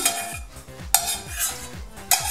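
Oat flakes with raisins are spooned into a bowl, with soft scraping strokes and a couple of sharp spoon clinks against the dish, quiet and close.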